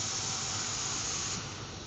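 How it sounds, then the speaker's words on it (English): Coolant sprays steadily from the spindle of a Haas UMC 350 CNC mill, a continuous broadband hiss with no talk, easing slightly near the end. "it's not particularly effective, but it's still obviously coolant spray"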